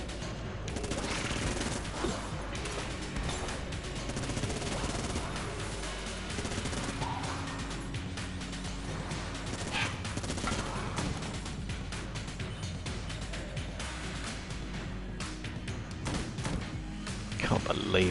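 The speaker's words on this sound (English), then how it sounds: "it's almost certainly going to be the Vulcan cannon" Rapid, sustained gunfire from the Vulcan cannon in the Enter the Gungeon video game: a dense, continuous stream of shots with thuds and crashes mixed in, loud and steady for the whole stretch, with game music underneath.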